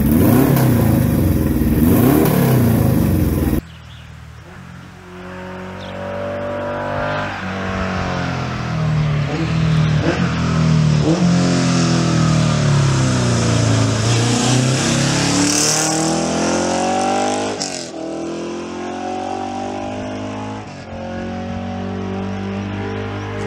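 A Laverda three-cylinder motorcycle engine revs loud and close, its pitch climbing and falling through several sustained throttle sweeps, with no talk over it.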